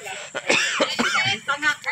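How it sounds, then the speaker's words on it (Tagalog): A few short, harsh coughs from a man come in quick bursts at close range outdoors by a river, mixed with brief throat clearing and a little voiced noise between them. "Inuubo po ang inyong host."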